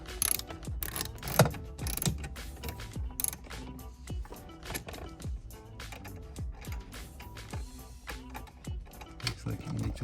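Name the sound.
ratchet with 8mm socket loosening a bolt in a BMW E93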